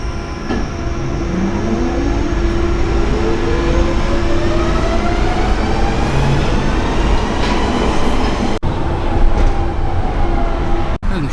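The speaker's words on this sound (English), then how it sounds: "This is a Central Line train to West Ruislip." A London Underground Central Line train runs loudly at close range, with a steady rumble, rising and falling motor whine and wheel squeal, and a couple of sharp clunks over track joints.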